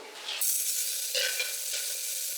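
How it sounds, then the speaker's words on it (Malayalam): Chopped garlic, ginger and green chillies hit hot coconut oil with mustard seeds, a sudden loud sizzle rising and holding steady, close up with no talk. "അരിഞ്ഞു വെച്ചിരുന്ന വെളുത്തുള്ളി ഇഞ്ചി പച്ചമുളക് ഇട്ട് കൊടുക്കും"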